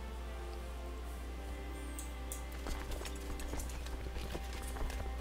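Horse hooves clip-clop in the medieval strategy game Crusader Kings II as a rider sets out on a stag hunt, a steady run of hoofbeats that turns more distinct partway through, over a constant low game hum.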